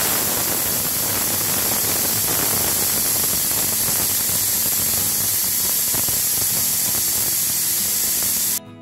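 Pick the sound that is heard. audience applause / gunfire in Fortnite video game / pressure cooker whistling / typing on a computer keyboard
pressure cooker whistling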